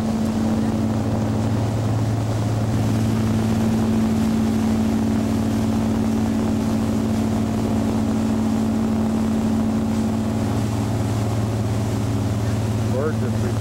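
A boat cruising through Doubtful Sound, New Zealand, in 1993, its engine humming in a constant low drone with wind buffeting the microphone over the whole stretch.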